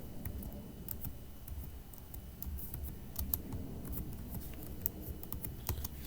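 Steady keystrokes clatter on a computer keyboard while cell entries are typed into an Excel spreadsheet, with close, crisp clicks over a low background hum.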